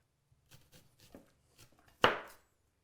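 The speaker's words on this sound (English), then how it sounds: "I'm just going to cut these into some rings to throw on top" A knife slices an onion into rings on a cutting board in a home kitchen: a few soft, light cuts, then one loud, sharp chop ringing briefly, close and with no talk.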